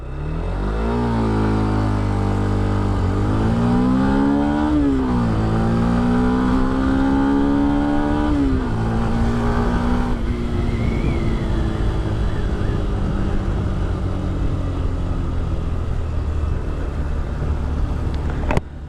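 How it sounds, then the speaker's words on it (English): A Yamaha FZ-X motorcycle accelerates hard through several gears, its engine note climbing in rising sweeps broken by shifts, then holding a steady loud drone at speed, close and without talking. "Here is the acceleration test of the motorcycle."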